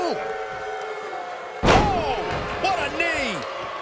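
A pro wrestler is body-slammed onto the ring mat in a match between two well-known wrestlers, giving one sharp, heavy thud partway through. Arena crowd noise and a commentator's voice continue throughout.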